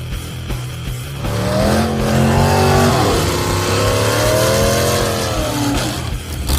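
A nitrous-equipped muscle car engine revs loudly and continuously for a drag pass, with rising and falling tones as the throttle sweeps up and down, plus faint tire squeal, close by with no talk.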